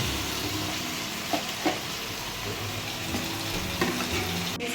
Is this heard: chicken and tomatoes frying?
yes